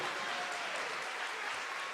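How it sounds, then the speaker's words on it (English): Audience applause for a sixth grade band at a middle school spring concert, a steady dense wash of clapping filling the hall from start to finish. "One more round of applause for our awesome sixth grade band and Miss Maria."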